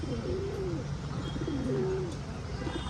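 High flyer pigeons, Marwada birds among them, coo in low rolling throaty calls, a few repeated phrases close by over a steady background hiss.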